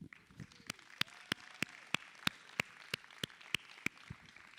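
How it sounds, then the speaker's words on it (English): A small audience gives a thin round of applause for Captain Paul Claus, a veteran pilot, at an aviation hangar talk. A few distinct, sharp claps land in a fairly steady rhythm, faint and slightly distant. "Please give me the biggest round of applause for Captain Paul Claus."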